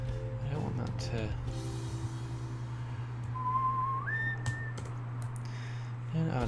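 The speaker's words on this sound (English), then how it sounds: "I tend to whistle when I start concentrating." A person whistles a short rising tune while concentrating on animation work at a computer, the tone clear and fairly close, with a steady hum and occasional keyboard clicks underneath.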